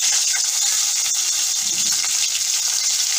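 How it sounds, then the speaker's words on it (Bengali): Cauliflower pieces sizzle steadily in hot oil in a home kitchen while vegetarian khichuri is being made, a constant close hiss with no talking. "এবার ফুলকপি ভাজবো"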